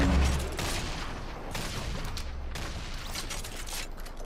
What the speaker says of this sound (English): Oh, I've got a grenade launcher.